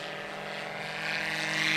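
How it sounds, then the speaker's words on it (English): A STOL airplane taking off at an airfield, with a steady loud propeller drone and engine roar that swells louder toward the end, heard with no talking. "This is a sub 75-foot takeoff from Eddie Sanchez."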